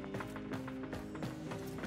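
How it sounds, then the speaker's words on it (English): Footsteps in the video game Warframe, a quick run of light regular thuds over a low steady in-game hum, moderately close. "I can hear footsteps."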